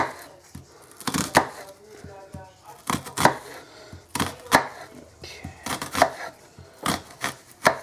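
A knife chops through a peeled onion on a board, close and crisp. The sharp strikes come in quick clusters of two or three with short pauses between, under faint background noise.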